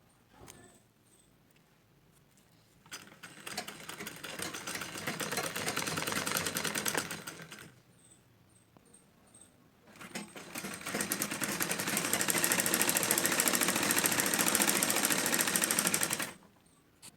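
A sewing machine stitches lace around a blouse neckline in two long runs of rapid, steady mechanical chatter, separated by a short pause with faint ticks and followed by quiet.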